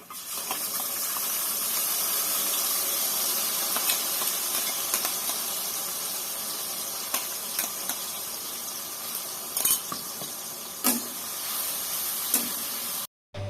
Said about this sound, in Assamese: এয়া মই মছলাখিনি ভালদৰে ভাজি ল'লোঁ